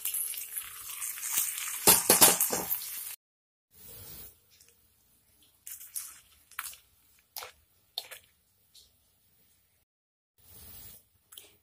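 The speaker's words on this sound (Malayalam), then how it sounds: "നമ്മുടെ കറിയിലേട്ട് താളിപ്പ് ഒഴിച്ചു കൊടുക്കാം." Hot tempering of fenugreek, chili and turmeric poured into Kerala kuruku kalan curry gives a loud, hissing sizzle that fades after a few seconds, followed by faint scattered crackles and clinks.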